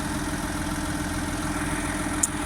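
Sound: Deutz tractor engine idling

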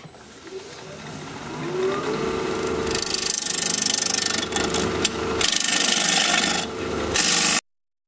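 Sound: bowl gouge hollowing an alder bowl on a wood lathe

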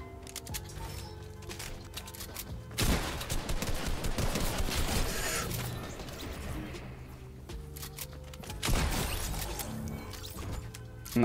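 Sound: shotgun gunfire in the video game Fortnite

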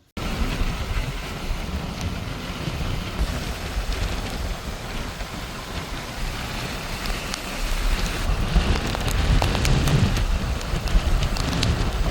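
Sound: rain falling during a storm

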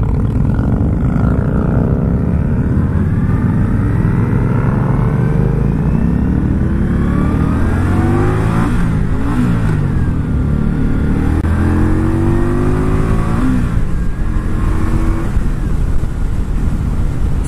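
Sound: Indian Scout Sixty motorcycle engine revving to 6,500 RPM

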